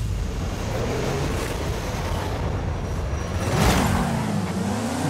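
A Toyota Supra races in the video game Forza Horizon 5 on a coastal course, its engine and road noise forming a continuous dense roar with a brief swell near the end.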